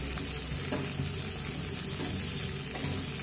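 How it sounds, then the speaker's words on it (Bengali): Potatoes, flat beans, pumpkin and radish sizzle steadily in a hot pan over a medium flame, a dense, continuous crackling hiss close by with no voices. "দিয়ে মিডিয়াম ফ্লেম করে 4 থেকে 5 মিনিট সবজিগুলো ভেজে নেব।"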